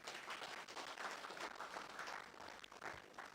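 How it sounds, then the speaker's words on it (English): Guests at a reunion dinner clap together in a sustained, moderately distant round of applause, dense and steady with no talk over it. "can you please give me a round of applause?"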